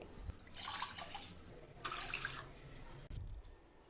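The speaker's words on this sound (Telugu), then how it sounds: "ఫస్ట్ ఒక గిన్నెలో ఒక 2 కప్పులు నీళ్లు పోసుకోవాలి." Water poured from a container into a cooking pot for two cups of tea, in a few separate splashing pours, close up and faint, with no talk.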